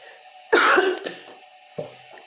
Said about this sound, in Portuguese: vai ter um pouquinho de tosse